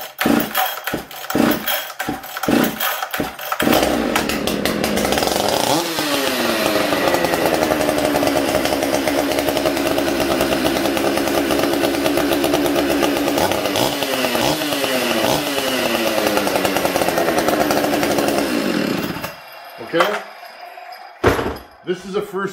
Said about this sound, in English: Let's start this power saw.